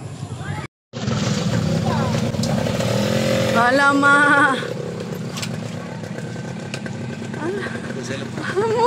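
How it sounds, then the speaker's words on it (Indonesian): A motorcycle engine revs and strains as the bike pushes through flash-flood water after heavy rain, a rough, loud, close drone with a brief dropout near the start, while people talk over it. "Jangan mati, jangan motor mati je."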